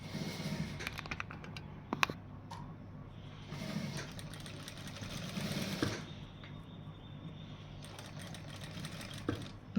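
Sewing machine running in steady bursts while stitching piping along the curved edges of a blouse, with a continuous mechanical hum, brief pauses and a few light clicks, heard fairly close and without talk.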